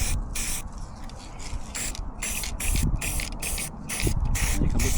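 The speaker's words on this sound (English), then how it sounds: "he gets the last few sprays in there before time runs out" Rapid bursts of spray hiss in quick succession, each short and sharp, over a low rumbling background, fairly close.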